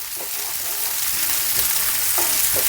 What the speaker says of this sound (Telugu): మనం కట్ చేసి పెట్టుకున్న క్యాప్సికమ్, బీన్స్, క్యారెట్ వేస్తున్నాం.